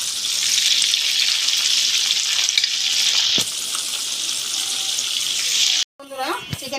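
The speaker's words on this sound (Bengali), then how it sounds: "চিকেনগুলোকে আমি প্রথমবার ফ্রাই করে নিয়ে এখন আবার দ্বিতীয়বার ফ্রাই করার জন্য তেলে দিয়ে দিচ্ছি" Chicken wings going into hot oil for a second fry, a loud dense sizzle filling the first six seconds, then a sudden drop to quieter bubbling with a few sharp spatters.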